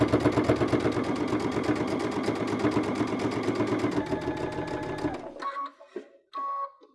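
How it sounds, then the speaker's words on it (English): A sewing machine fitted with a double cording foot runs a steady, rapid stitching rhythm for about five seconds, then stops, followed by a few brief mechanical clicks and a short whir up close. "So if you watch, I'll sew just a few stitches"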